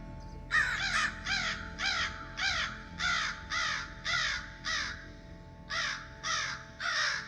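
Crows caw loudly in a steady run of about a dozen harsh calls, evenly spaced with a brief pause near the end, played as a sound effect during a tabletop role-playing game with no talk over them.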